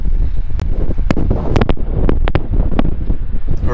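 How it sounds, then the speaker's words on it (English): Strong wind of about 70 km/h buffets the microphone in loud, continuous gusts, with a few sharp knocks and rattles mixed in. "there goes your 70k an hour wind"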